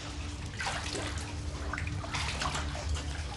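Water flows steadily through a dark cave in a running stream, an even wash of rushing and sloshing that is close and moderately loud, with no voices.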